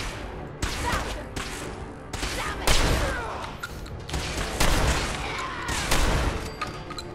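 Explosions and blasts from combat in Fallout 4's Far Harbor expansion, several loud broadband bursts at irregular intervals over a continuous rumbling game soundscape, with a little speech mixed in.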